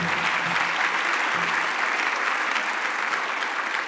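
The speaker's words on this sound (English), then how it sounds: "if you could give Ray and Bev a great round of applause" A conference audience gives sustained, dense applause, steady and loud throughout with no talk over it.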